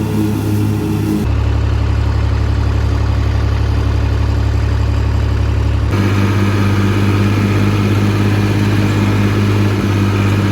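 A Massey Ferguson 231 tractor engine runs at a steady idle close by, a continuous low rumble that shifts in tone partway through, with no talking.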